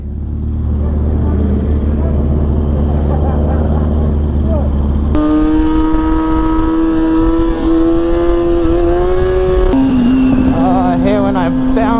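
A motorcycle engine revs loud and close during wheelies on a bumpy stretch, holding a strong steady roar that shifts pitch through several throttle changes, with no clear talking.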